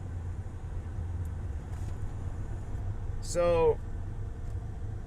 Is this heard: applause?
no